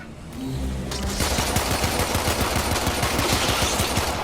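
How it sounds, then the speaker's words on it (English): Sustained weapon fire in Warframe on Deimos: a dense, continuous stream of rapid shots over a loud, noisy roar of battle, starting just under a second in and running to the end. "Destroy it with weapon fire."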